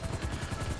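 Helicopter rotor chopping steadily in GTA Online, a dense rhythmic low thump with broadband engine whine, continuous and fairly close throughout the short stretch.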